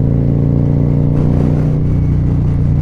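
Motorcycle fitted with a Khrome Works exhaust and Aggressor headers, its engine loud and close in a steady deep rumble that swells slightly, with no talking over it.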